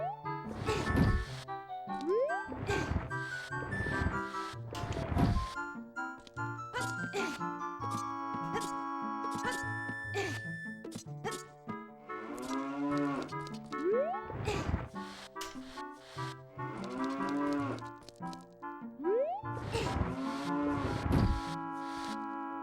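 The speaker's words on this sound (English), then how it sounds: "you can use Epona's song next to a cow to get some milk from it" Synthesized cow moos from the Nintendo 64 game Zelda: Ocarina of Time follow an ocarina tune, low lowing calls mixed into game music and sound effects.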